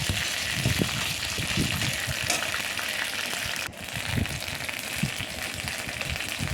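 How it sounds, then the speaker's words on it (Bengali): A ginger and cumin paste with spices fries in a pan for a taro-leaf dish, giving a steady crackling sizzle with intermittent stirring scrapes and a brief dip partway through. "আদা জিরে একসঙ্গে তার পেস্ট একটু দিয়ে ভালো করে মশলাটাকে একটু ভেজে নেব"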